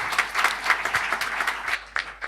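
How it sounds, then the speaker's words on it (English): An audience at a housing justice forum in Melbourne bursts into applause, a dense burst of clapping that carries on for a couple of seconds and thins slightly toward the end. "We should clap, Jacinta."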